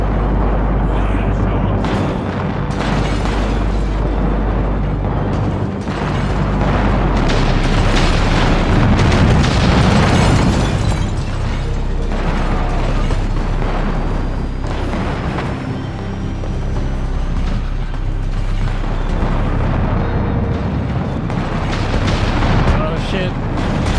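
Building blown apart in Project Zomboid, a long, loud rumbling series of explosive booms and crashing debris that rises and falls, with a voice talking over it.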